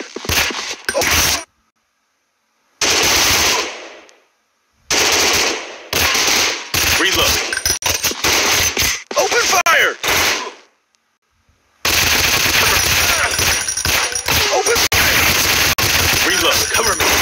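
Rapid automatic gunfire in an anti-terrorist combat video game, loud sustained bursts broken by short silences, ending in a long continuous stream of shots.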